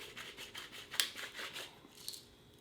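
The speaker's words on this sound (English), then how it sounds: "I'm probably going to grind some pepper up on mine, too." A pepper grinder works over a meal of a 1991 MRE, giving quiet, rapid gritty grinding strokes in short bursts with a couple of sharper clicks, close and faint.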